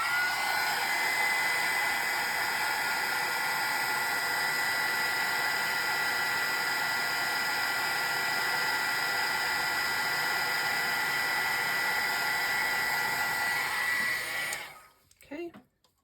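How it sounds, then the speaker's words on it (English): A heat gun blows steadily on an embossed watercolor card, a loud, even hiss of rushing air lasting about fourteen seconds before cutting off, followed by a few faint handling knocks. "I'm going to hit that with the heat gun so we can assemble our card."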